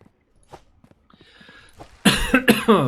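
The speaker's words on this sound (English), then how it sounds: "Coughing." A few soft rustles and taps, then a burst of loud, harsh coughs close by, three or so in quick succession.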